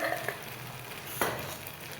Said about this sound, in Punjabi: ਇੱਕ ਚਮਚ ਆਪਾਂ ਦੇਸੀ ਘਿਓ ਪਾ ਦਵਾਂਗੇ